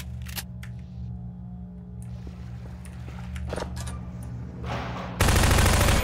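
Gunfire from Half-Life 2 erupts loud and close in a dense burst at the end, following quieter game ambience with scattered clicks and a low droning hum.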